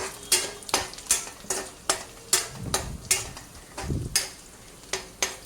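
Peanuts frying and stirred in a pan for gongura pickle, with a soft steady sizzle under a dozen or so sharp, regular scrapes and clinks of a spoon against the metal pan, close and fairly loud.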